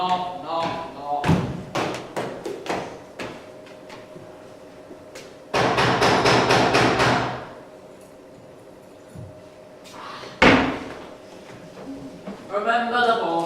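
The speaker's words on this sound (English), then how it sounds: "Knock, knock, knock, knock." Heavy knocks on a door in a live Macbeth stage performance: scattered loud thumps, then a fast burst of repeated knocks, a pause, one more hard bang, with voices following.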